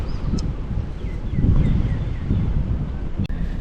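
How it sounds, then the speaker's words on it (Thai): Strong wind buffets the microphone at a beach campsite on the Cha-am shore in Thailand, a steady loud roar with gusts swelling and fading, while faint bird calls drift in the background. "ลมแรงมากเลยค่ะ"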